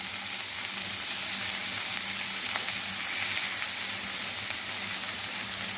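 Okra (bhindi) fries lightly in a pan with a steady, even sizzle that holds unchanged throughout, close and moderately loud with no voices.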